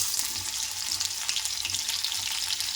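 Green chilies frying in hot oil in a pan, a steady close crackling sizzle with fine bursts of spatter throughout, no voices.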